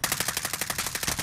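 Rapid automatic gunfire in the video game Warzone, a close, loud burst of evenly spaced shots fired in quick succession.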